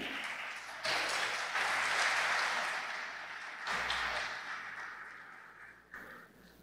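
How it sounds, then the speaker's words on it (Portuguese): Audience applause at a ceremony launching an integrity plan, a broad wash of clapping that swells, eases off and resumes, heard at moderate distance with no talk over it. "Mais uma vez, uma salva de palmas."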